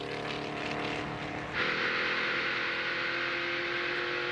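The struggling engine of the number 6 race car, blowing black smoke and running rich on raw fuel late in a 2002 stock car race, drones loudly and steadily, then swells into a louder, harsher roar partway through.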